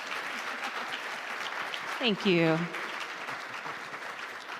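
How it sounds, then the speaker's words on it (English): Sustained audience applause at a public administrators' forum fills the clip, with a voice briefly speaking over the clapping midway. "Can you please give a round of applause to our incredible guests?"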